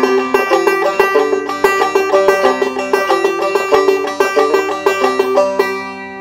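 Deering banjo picked in a quick, steady roll of bright plucked notes, a continuous melodic passage from Opus 36 played alone and close up.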